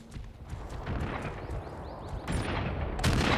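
Gunfire in the video game Jurassic Monster World comes as a dense, continuous stream of rapid shots and impacts over steady game noise, loud and close, with no voices.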